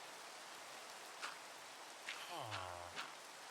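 Steady hiss of rain in the Minecraft video game continues throughout, with a few faint game sounds and a short low tone near the end.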